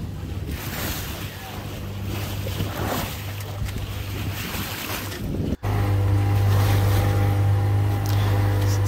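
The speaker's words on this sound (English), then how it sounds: "Motor sailing to Port Stephens headland." Small pocket cruiser sailboat motor sailing on the open sea toward the Port Stephens headland on the Australian east coast, a steady low engine drone under wind noise and rushing water, growing louder after a brief cut.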